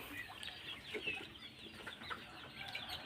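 Chickens cluck softly on a farm in the rainy season, giving scattered short calls and chirps at a low, fairly distant level over a quiet background.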